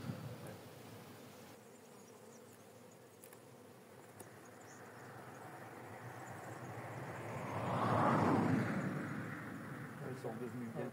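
Honeybees hum from an open hive colony during a brood-frame inspection: a steady, fairly quiet drone that swells and grows closer for a moment before settling back to a calm background buzz.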